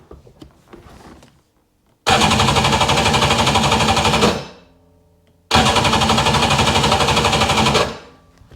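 A 2000 Seadoo GTX 951 engine with no spark cranks over in two loud, sustained bursts of rapid mechanical chatter, each about two seconds long, separated by a short silence.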